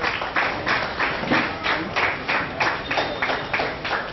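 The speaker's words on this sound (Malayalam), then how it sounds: "നമുക്കൊന്നുകൂടി കൈയടിച്ച് വരെ പ്രോത്സാഹിപ്പിക്കും" An audience at a public meeting claps together in a steady, rhythmic burst of applause, dense and continuous with no voices over it.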